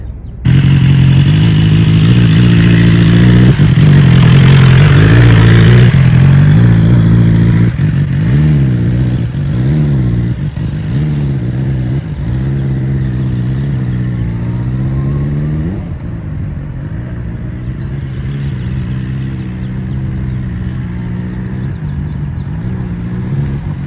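A motorcycle engine rumbles up close as the bike weaves back and forth in a slow-speed riding exercise, revs rising and falling repeatedly, loud at first then easing to a steady idle-like putter.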